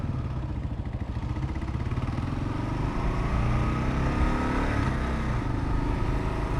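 A Kawasaki KLR 650 motorcycle rolls along at walking pace, its single-cylinder engine thrumming steadily, close and fairly loud, with faint clatter and a slight rise in pitch midway.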